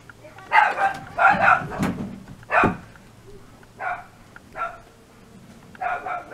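A dog barking indoors at home: several sharp, loud barks in short bursts, separated by pauses and mixed with yips and whimpering, fairly close.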